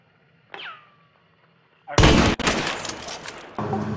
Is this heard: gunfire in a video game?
yes